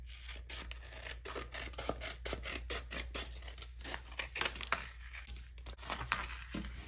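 Scissors trim a scrap of transfer tape for a craft project, a quick run of crisp, close snips and crinkly scraping in an irregular rhythm, faint and alone.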